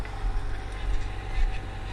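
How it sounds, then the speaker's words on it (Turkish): A 2016 New Holland TD75D tractor ploughs a field with a four-furrow plough, its diesel engine droning in a steady low rumble with a faint whine, close and continuous throughout. "Ya şu an traktör gayet rahat bir şekilde gidiyor."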